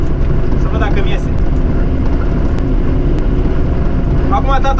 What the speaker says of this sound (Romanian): Acum tata merge cu tractorul fără tobă de eșapament. Și se aude foarte nașpa.